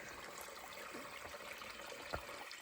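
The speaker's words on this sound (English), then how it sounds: "water is coming from the mountain" Clear mountain water runs steadily at Bhaokhungri waterfall in Kokrajhar, a faint even wash of flow with one soft splash near the end and no voices.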